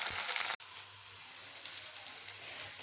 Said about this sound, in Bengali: বাকি মুইঠাগুলোকেও একই রকমভাবে ভেজে নেব